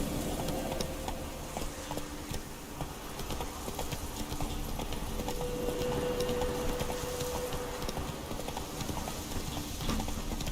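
Horse hooves clip-clop steadily while riding in The Witcher 3: The Wild Hunt, a continuous rhythmic trot mixed with game ambience at moderate, even loudness, with no talk.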